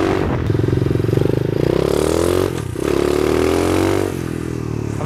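A 110 cc SK 110 Pro mini trail motorcycle revs hard in fourth gear, a loud close buzzing engine note that climbs in pitch, dips briefly with a shift or throttle change, then pulls again.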